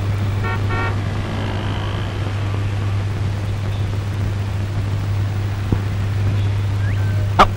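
A Maruti van runs with a steady, low engine drone that holds evenly throughout. A brief horn-like chirp sounds near the end, and no voices are heard.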